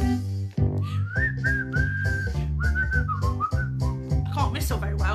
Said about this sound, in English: Do some whistling now.